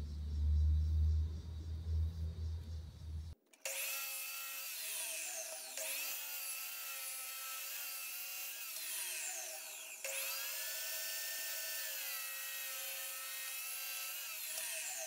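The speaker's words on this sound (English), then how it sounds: "just start sneaking up on it with my miter saw" A powered miter saw whines and cuts into wood for a smokehouse door, with the blade spinning up after a rumbling start, then two long sustained cutting passes with rising pitch, loud and close.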